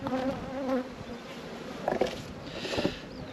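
A strong honey bee colony buzzes at the hive: a dense, wavering drone of many wings nearby, swelling and fading slightly, with no voices.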